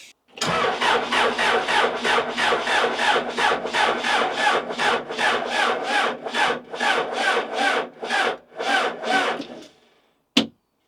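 A neglected Case 580 Super L backhoe engine cranks over on a tired starter, giving about twenty rhythmic, labored chugs that slow toward the end before stopping, followed by a short clunk.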